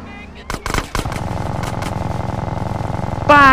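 Rapid bursts of automatic gunfire in GTA San Andreas on PC, loud and close, with sharp repeated shots early on, then a steady rattling stream of fire and a louder burst at the end.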